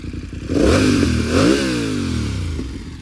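A BMW F900R motorcycle fitted with an aftermarket exhaust, baffle left in, revs up twice then settles with a falling engine note, loud and close with no talk.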